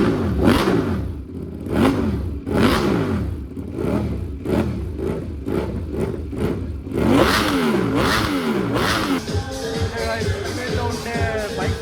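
Modified motorcycle with an aftermarket exhaust at a bike and car meet, revving loudly in repeated rising bursts, with another engine's rumble joining near the end.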